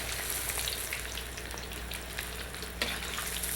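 Tofu chunks frying in hot oil during an Asian-style dinner cook, a steady close sizzle with fine crackling and a few louder pops throughout, no talking.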